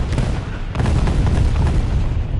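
Bombs detonating in the War Thunder video game: a heavy, rumbling boom with deep low-end, a fresh blast partway through, then sustained roaring rumble.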